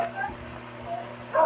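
A dog gives a few short, close yips and whimpers in quick succession over a low background hum.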